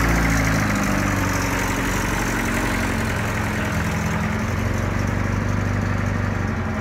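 A 1969 Alfa Romeo Giulia Ti engine idling close by, a steady low rumbling throb that holds even throughout with no revving and no talk.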